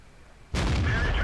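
A tank gun fires in World of Tanks, a sudden loud boom after a quiet half second, followed by a sustained rumbling roar and tail that fills the rest of the moment.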